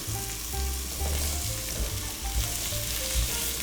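Yellow onion fries in a pan while a spoon stirs it, giving a loud, close, continuous sizzle with rhythmic scraping and low tonal hum underneath, no voices.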